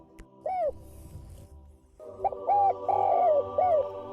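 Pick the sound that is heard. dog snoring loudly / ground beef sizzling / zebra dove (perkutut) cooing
zebra dove (perkutut) cooing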